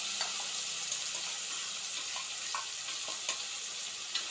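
Onions frying in a pan on a home kitchen stove, a steady close hiss of sizzling oil with occasional small pops and crackles throughout, no voices.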